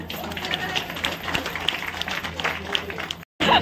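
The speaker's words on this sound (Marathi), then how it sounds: "मला वाटतं दोन्ही टाळ्यांचा आवाज बरोबर होता" Guests at a wedding engagement program clap together, a steady patter of applause from a gathered audience, moderately close, with a voice speaking over it.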